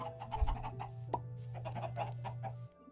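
Chickens clucking in the Minecraft video game, several short repeated clucks in an uneven rhythm over a steady low hum, at moderate level throughout.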